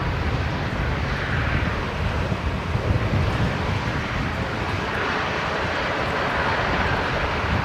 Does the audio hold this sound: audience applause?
no